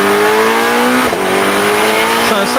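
Newly released Chevrolet Corvette engine recording, a loud, continuous high-pitched engine wail with rising and falling tones and a brief gear-change dip, heard alone without talk.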